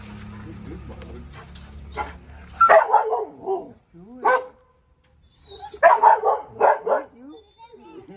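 A 9-month-old Doberman barks several times in short bursts, with a pause between volleys, close to the microphone; quiet sounds and a low hum come before the barks.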